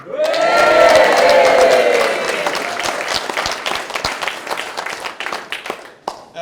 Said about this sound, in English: First big cheer, hopefully, of the night